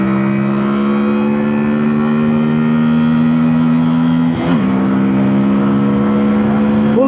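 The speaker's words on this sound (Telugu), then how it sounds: "సో ఒక్కసారి మనము థ్రాటిల్ ఇచ్చి చూద్దాం దీన్ని తడాక ఎలా ఉందనేది." A Keeway Benda V302C V-twin motorcycle engine is revved at the throttle, a loud, close, throbbing drone that holds steady, dips briefly midway, then rises again.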